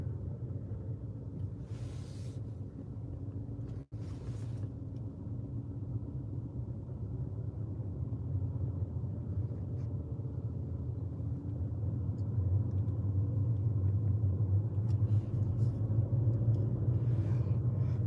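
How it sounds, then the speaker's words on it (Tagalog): Road traffic on a Swiss road, a continuous low rumble of engines and tyres that swells and thickens over time, with a couple of brief whooshes of passing vehicles and no speech. "Now there is a traffic here."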